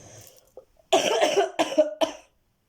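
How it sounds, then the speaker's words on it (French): A woman coughs close to the microphone, a short throat sound followed by a run of about three harsh coughs, then silence. "Excusez-moi, je tousse."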